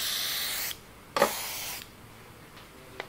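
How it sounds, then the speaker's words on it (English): An airbrush driven by a compressor sprays paint for scale modelling, giving two close, steady hissing bursts separated by a short pause and then fading to quiet. "you can spray with more pressure, and you probably want to hold it back further so that it'll be nice and smooth"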